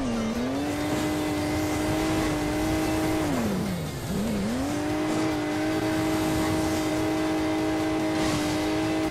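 The sports car engine in the Hill Climb Racing 2 video game drones as a steady synthetic hum, dipping sharply in pitch mid-run before climbing back to a constant whine.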